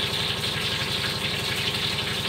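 Washing machine running indoors near a kitchen, a steady low mechanical hum with a fast pulsing rhythm and throbbing vibration, continuous throughout with no talk.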